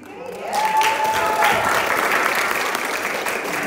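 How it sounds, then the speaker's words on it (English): Applause from a church congregation for CJ, a steady wash of many hands clapping through the whole stretch, with a brief tone sounding early on. "Clap for CJ"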